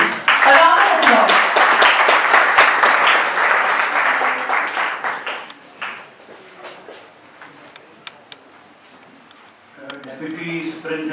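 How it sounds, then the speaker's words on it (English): A crowd at a college social awareness programme on traffic hazards breaks into loud, sustained applause for roughly five seconds, then it thins out and fades into room murmur, with a voice starting up near the end. "Sir, kindly come on the stage. A round of applause."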